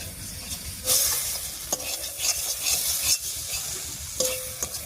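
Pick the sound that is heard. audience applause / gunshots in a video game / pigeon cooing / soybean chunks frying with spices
soybean chunks frying with spices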